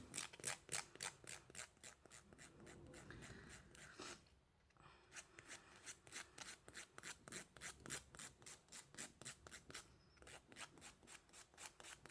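A nail file rasps back and forth against the edge of a nail wrap, a steady run of quick, close scratchy strokes with a brief pause midway, no voices present.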